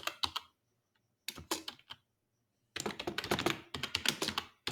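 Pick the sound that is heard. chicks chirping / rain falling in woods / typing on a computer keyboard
typing on a computer keyboard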